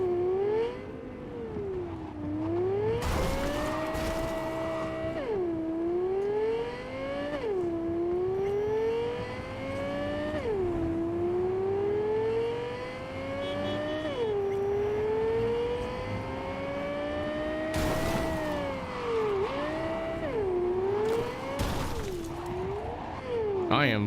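A car engine in the video game Cyberpunk 2077 drives and revs repeatedly, its pitch climbing with each gear and then dropping back. A few loud crashing impacts break in, and the sound stays close and continuous.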